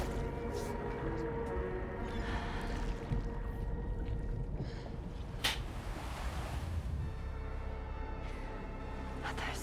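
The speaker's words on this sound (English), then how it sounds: "Waves?" Ocean waves washing onto a beach in the video game Death Stranding 2, a steady loud roar of surf with wind-like rushing and occasional brighter swells throughout.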